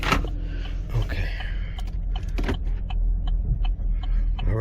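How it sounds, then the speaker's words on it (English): A 2015 Chevrolet Camaro on a test drive after a transmission control module swap for hard shifting and limp mode, with a steady low engine and road rumble inside the cabin and a few clicks and creaks. "see if we can test drive this vehicle"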